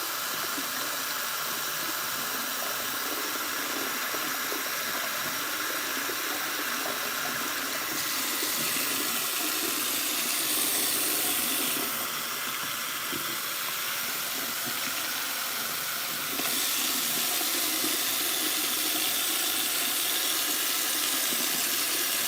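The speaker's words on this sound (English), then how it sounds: "and run it under some cold water" Tap water runs steadily under cold water over a shoe made of hot glue, a constant close splashing hiss that lasts the whole stretch and shifts slightly in tone as the shoe moves under the stream.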